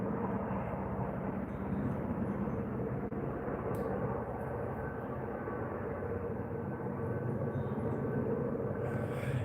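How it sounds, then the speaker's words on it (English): A Huey or Sikorsky helicopter flies overhead outdoors, a faint steady low rumbling drone that persists without clear rotor chop. "A Huey. Or, man, maybe it's a Sikorsky."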